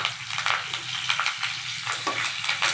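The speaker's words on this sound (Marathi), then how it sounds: "राई टाकली आहे, आता जिरे टाकले बघा काय टाकले, लसूण टाकले आणि कढीपत्ता टाकले." Mustard seeds, cumin, garlic and curry leaves sizzle and crackle in hot oil, a steady close frying hiss broken by sharp popping bursts of the spluttering seeds.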